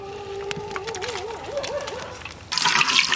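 Water poured into a pan for Bengali mustard hilsa curry, a steady trickle and splash running a few seconds before a louder, brighter rush near the end, with faint tonal kitchen noise underneath.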